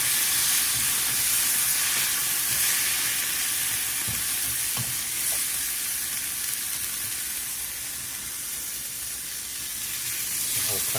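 Chopped tomatoes sizzle in a frying pan for shakshouka cooked aboard a narrowboat, a steady near hiss and crackle running throughout with occasional small clinks and no voices.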